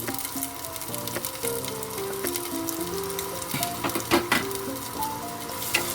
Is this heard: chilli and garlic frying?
yes